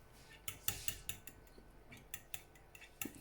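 Utensil clinks and scrapes against a bowl while ingredients for a fruit cocktail omelette are mixed, an uneven run of sharp taps with quiet pauses between them.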